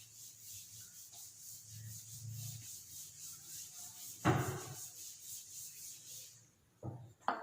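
Board eraser rubbing out chalk writing on a classroom board, a brief burst of scraping strokes close by, followed by a shorter second rub.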